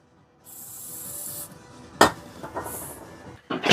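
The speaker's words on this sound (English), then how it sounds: "we're drilling those, enlarging those holes" A hole is being enlarged in vehicle body metal during a hitch install on a 2024 Subaru Solterra, with rasping, grinding bursts, a couple of sharp metallic clanks and intermittent high hiss.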